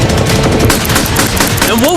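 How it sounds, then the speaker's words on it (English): Light machine gun fire tearing into cinder block walls, a dense, continuous loud burst of rapid shots with impacts throughout, ending in a rising whine. "They just brought out the LMG."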